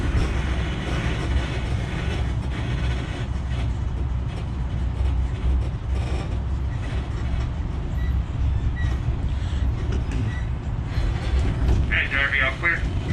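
Disneyland Resort tram rolling along, a steady loud rumble of wheels and motor throughout with rattling mechanisms and a brief higher squeal near the end; speech is likely present under the noise.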